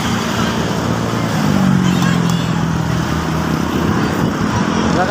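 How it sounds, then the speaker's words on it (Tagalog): Steady road traffic with cars and motorcycles passing close by during a road bike race, a continuous broadband roar with tonal engine hum, and voices chattering over it. "Nakakatakot, may mga sasakyan."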